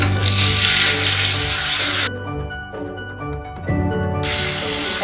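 Chopped tomatoes hit hot oil with golden-fried onion, garlic and green chillies, bursting into a loud close sizzle that cuts out briefly, leaving a thin hum, then returns strongly at the end.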